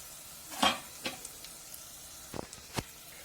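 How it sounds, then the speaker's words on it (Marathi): Grated coconut being fried in a pan over low heat until it browns: a soft, quiet sizzle with a few sharp scrapes and taps from stirring, spaced irregularly. "खोबरं पण लाल होईपर्यंत परतायचं"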